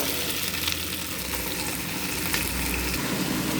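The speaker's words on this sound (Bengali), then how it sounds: "পেঁয়াজটা ভাজা ভাজা হয়ে গেছে, তো আমি বটবটিগুলো দিয়ে দিচ্ছি।" Flat beans tipped into a pan of onion browning in oil with panch phoron, giving a steady, close sizzle of frying with some stirring, continuous and fairly loud throughout with no talking.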